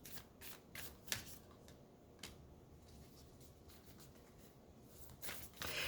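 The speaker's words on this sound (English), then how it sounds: "we're going to shuffle because that's what I'm supposed to do" A deck of tarot cards is shuffled by hand in a quiet room, giving soft, papery riffles and taps in irregular bursts, close and faint.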